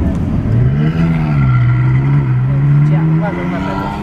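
A Ferrari convertible's engine drones loud and steady on a Polish street, its pitch rising and falling as it drives alongside, with someone talking over the engine noise throughout.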